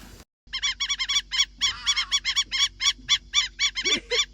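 Birds with long yellow legs call in a rapid series of loud, nasal honking notes, close by and repeating in quick irregular bursts for several seconds, with no talking.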